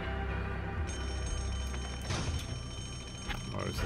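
A telephone rings in the video game Max Payne 2, a bright repeating electronic trill that starts about a second in and carries on over game sounds and muffled voices.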